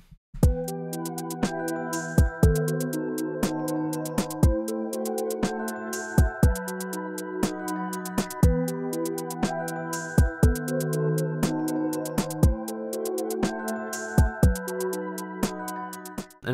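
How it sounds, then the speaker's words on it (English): A drum loop built from AI-generated drum samples with no effects plays kicks, snares and hats in a steady repeating groove over sustained tonal layers, loud and continuous without talking. "So I created this drum loop using all these generated sounds."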